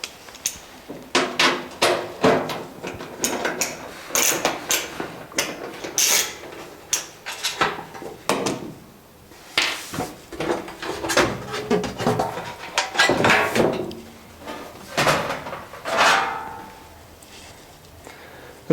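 Screws being undone from the top and back of an electric cooker's metal casing, with repeated metallic clicks, clinks and rattles of the screwdriver and panel close by, in uneven bursts with no talking.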